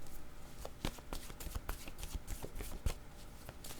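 Playing cards are shuffled and drawn by hand, a dense, scratchy stream of riffles and soft snaps close by, with sharper flicks scattered through and no voices.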